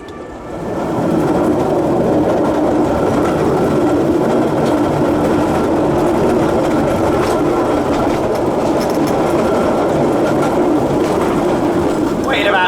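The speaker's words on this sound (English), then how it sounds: "we'll get on the train and take it back up to the park" Small park train at Jardin d'Acclimatation running along and crossing a road, a steady loud rumble of wheels and motor lasting throughout, with faint high squeals near the end.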